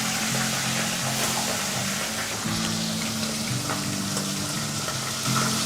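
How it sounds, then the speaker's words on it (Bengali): A rui fish head frying in hot oil, a loud, dense, continuous sizzle and crackle close up, with no voices. "তেল গরম হয়ে গেছে। গ্যাসটা লো করে নেবে যখন মাছের মাথা দেবে"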